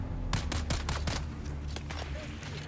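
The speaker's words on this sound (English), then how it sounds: "You guys want to keep shooting my damn vehicle" Rapid gunfire in a video game strikes a vehicle, a quick run of sharp cracking shots over a steady engine-like hum, then a few sparser shots.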